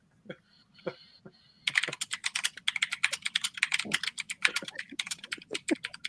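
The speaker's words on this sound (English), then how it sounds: "We can hear Billy's keyboard" Rapid, continuous typing on a computer keyboard, with dense clicking clatter that starts after a faint opening tone and runs close and steady to the end.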